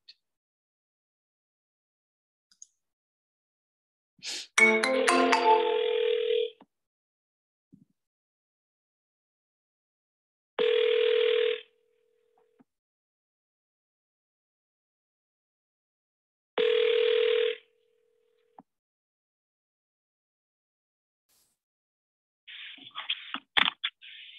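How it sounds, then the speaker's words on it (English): A phone line rings back while a second number is dialed on a cold call, with three evenly spaced ring tones separated by long silences after an initial dialing burst. "So I'm going to call a second number here."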